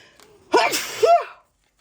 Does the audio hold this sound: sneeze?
yes